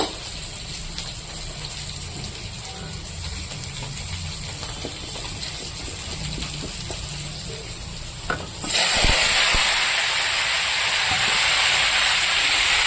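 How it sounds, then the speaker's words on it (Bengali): Vegetables dropped into hot oil in a kadai set off a sudden loud, broad sizzle partway through, which then holds steady and bright after quieter kitchen sounds. "কড়াইতে তেল দিয়ে দিয়েছি এবার আমি সবজিগুলো দিয়ে দেব"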